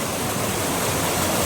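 Water pours steadily over a waterfall in Devgad during the rainy November season, a dense continuous roar that stays loud and even throughout, with no voices over it.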